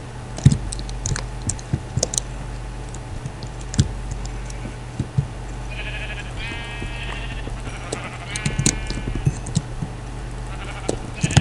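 Sheep in the Minecraft video game bleat twice in short, nasal bursts over steady keyboard clicking and a low background hum.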